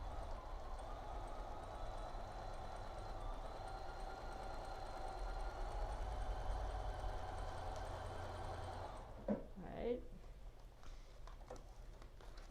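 A sewing machine runs steadily while stitching a quilt block sewn on paper along a printed line. It holds a continuous mechanical hum for about nine seconds, then stops, and a few soft handling clicks and rustles follow.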